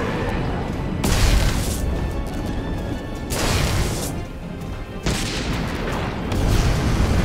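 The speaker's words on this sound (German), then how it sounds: "Die haben Minen geworfen. Vorsicht, das ist eine Bombe." Bomb blasts from thrown mines in the video game Magicka, three or four heavy booming bursts spaced a couple of seconds apart, loud and full, each with a rumbling tail.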